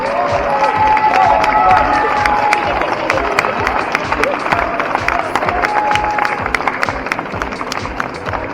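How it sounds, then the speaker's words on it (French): A large crowd at a geek convention's cosplay contest in Burgundy cheers and applauds, with dense clapping, whistles and shouts holding loud and steady throughout. "quelle acclamation."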